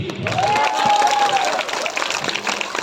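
Loud applause from a crowd fills the room, steady clapping with some cheering, while a sustained tone rises and holds briefly in the middle.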